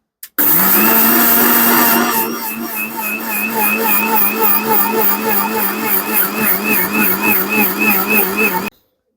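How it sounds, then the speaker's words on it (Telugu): A mixer grinder runs loud and steady, pulverising roasted urad dal into powder: a sharp high whir at start-up settles into a rough, pulsing grind that holds for several seconds before cutting off abruptly. "మిక్సీ జార్ని ఇప్పుడు స్టార్ట్ చేసి మనం దీన్ని ఇందాక మినప్పప్పు బాగా వేయించి పెట్టుకున్నాం కదా దాన్ని పౌడర్ చేసుకుందాం"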